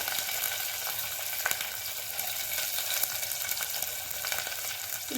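Thinly sliced onions fry in hot oil with mustard seeds, curry leaves and chillies to start a river pomfret fish curry. The steady crackling sizzle is close and continuous, with a few faint stirring knocks and no talking.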